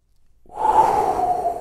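A deep breath during a bodyweight functional warm-up exercise, a slow audible inhale-exhale that swells after a brief silence and holds steady and fairly close, with no talk over it.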